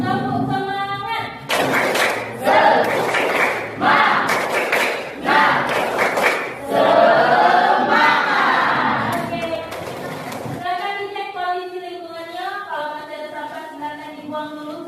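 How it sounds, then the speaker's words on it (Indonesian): A standing class of schoolchildren performs a rhythmic spirit clapping chant, many voices chanting together in a loud, lively burst over sharp hand claps, then settling into quieter sung voices. "Tepuk semangat."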